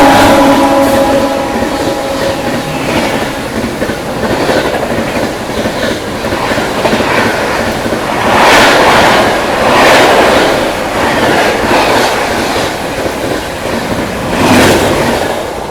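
The Sealdah–New Delhi Rajdhani Express thunders past during an overtake of the Amrit Bharat Express in heavy rain, a loud continuous rumble with rhythmic wheel clatter and swelling rushes of noise.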